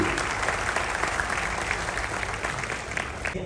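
An audience gives a loud, sustained round of applause for an honoured guest at a recognition ceremony, dense clapping throughout.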